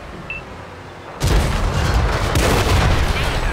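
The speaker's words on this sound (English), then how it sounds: "And then artillery." World of Tanks artillery fire: after a quiet stretch, a sudden heavy boom hits and gives way to a loud, rumbling barrage of gunfire and explosions that holds steady to the end.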